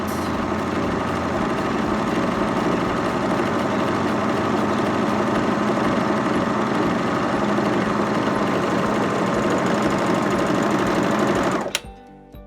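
A Baby Lock Vibrant sewing machine stitches pintucks in one steady, loud, fast whirring run that cuts off abruptly near the end, followed by a brief click.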